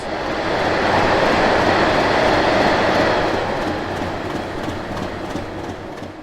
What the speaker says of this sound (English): 66727 passes with the 6 Foxtrot 93 Carlisle Yard to Walsall cement tankers